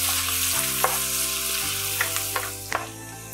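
Onion frying on a tawa for pulao gives a steady, bright sizzle. A few stirring scrapes and knocks break in partway through, and no one speaks.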